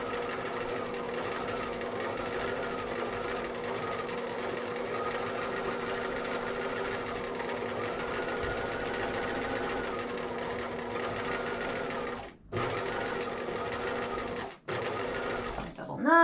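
A sewing machine runs steadily at a long stitch length, sewing a basting row around a capelet piece with an even, continuous whirring hum. It halts briefly twice near the end and has no voices over it.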